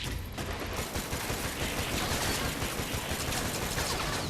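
Dense, continuous automatic gunfire blasts nearly without pause in a VR shooter game played on an Oculus Quest through Oculus Link, loud and close throughout.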